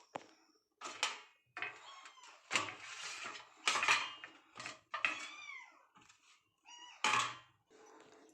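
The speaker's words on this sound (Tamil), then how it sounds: "நான் மிச்ச தக்காளியை கட் பண்ணி வச்சிடலாம்." A knife cuts tomatoes on a board in a home kitchen, giving about eight close, separate chopping knocks at an uneven pace, with quiet gaps between them.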